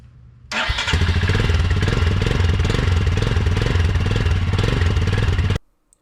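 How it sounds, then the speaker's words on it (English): A Royal Enfield Himalayan motorcycle engine starts and runs at a steady, loud, close thumping idle for about five seconds after an oil change, then cuts off abruptly into silence. "start your bike and listen for any irregular sounds"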